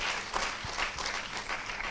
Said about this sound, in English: we should give them applause